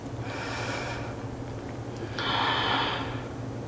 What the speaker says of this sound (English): Taking one more breath.